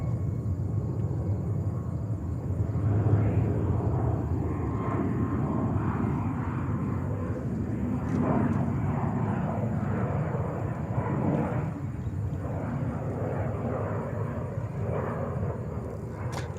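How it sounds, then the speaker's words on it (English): A Delta Boeing 767-400 jet inbound from Geneva arrives at JFK airport, giving a steady, broad engine rumble that holds at an even level for the whole stretch. "Delta coming with a 767-400 from Geneva."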